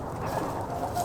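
A brief stretch of low clucking from a chicken nearby, over a steady background hum.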